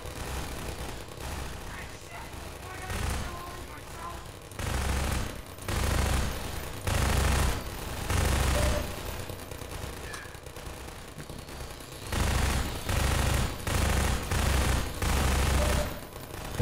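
Turret gunfire in Half-Life 2 Episode 2, heard as repeated loud bursts of rapid automatic fire separated by short pauses against a steady game-ambience background.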